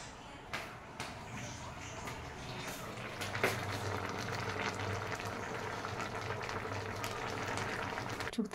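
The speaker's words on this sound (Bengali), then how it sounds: "শুক্তোটা কেমন টকবক করে ফুটছে দেখো।" A pot of shukto, a Bengali vegetable curry, bubbles as it boils, a soft steady burble that thickens midway, fairly faint with a few small knocks of movement nearby.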